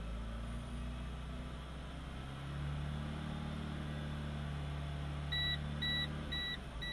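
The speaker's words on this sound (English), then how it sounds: "warning buzzer is on." A 2.0L VW A3 engine idles with a low hum, then the oil pressure warning buzzer sounds in a few short, evenly spaced beeps near the end.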